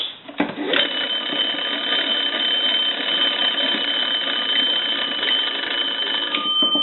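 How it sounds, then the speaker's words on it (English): Kellogg wood wall telephone with its bells rung by cranking the magneto, a continuous loud, close metallic ringing that holds steady for several seconds after a brief start. "crank the magneto and ring the bells"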